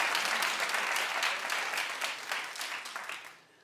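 Enthusiastic studio audience applause at a daytime talk show, a loud, dense burst of clapping that holds steady and then fades out near the end.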